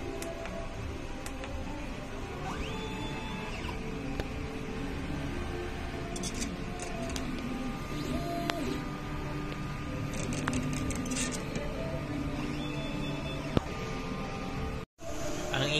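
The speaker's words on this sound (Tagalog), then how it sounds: "Nozzle test." An inkjet printer runs a nozzle test after a head clean and wiper cleaning, giving a steady low mechanical whir with faint ticks and light clicks throughout, ending in a brief sharp knock near the end.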